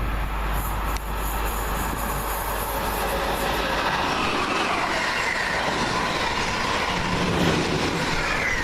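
A Freightliner Class 90 locomotive hauls a freight train past at Cheddington, a loud sustained rumble of wheels on rail with clattering wagons and a faint squeal, with no one speaking.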